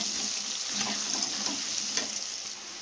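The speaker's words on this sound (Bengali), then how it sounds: "আলুটা লাল লাল করে ভেজে তারপরে দিয়ে দেবো মশলা" Potato pieces fry in a pan until reddish, with a quiet, even sizzle and faint stirring scrapes throughout the short stretch, no voice.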